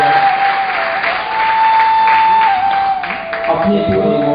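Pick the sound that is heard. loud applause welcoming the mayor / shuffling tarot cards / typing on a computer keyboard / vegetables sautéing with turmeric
loud applause welcoming the mayor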